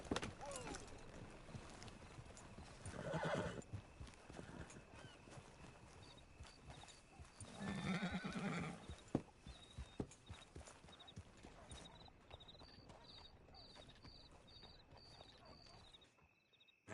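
Horse hooves clop at a steady walking pace in Red Dead Redemption 2 over a faint ambient hum, with a soft chime-like tone appearing near the end.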